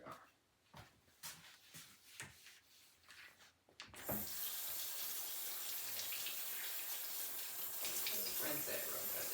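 Tap water runs steadily as fresh garden tomatoes are rinsed at a sink, a continuous close rush of water that starts partway through after some handling noises and a voice.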